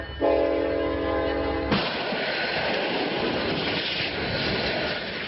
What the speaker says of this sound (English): That is the sound of a train crashing into a flatbed truck.